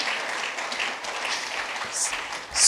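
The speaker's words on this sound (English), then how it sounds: "Please clap if you can clap." Audience clapping during a talk on Forex trading, a dense, steady patter of many hands at moderate distance, continuing for a few seconds without voices.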